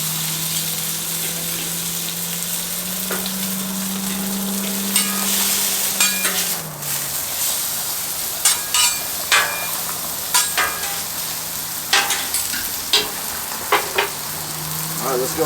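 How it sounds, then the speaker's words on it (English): Trimmed steak fat renders in a hot pan, giving a loud continuous sizzle with spatters and sharp crackles, under a low hum and some brief talk. "we'll go ahead and use this fat and render some of it down"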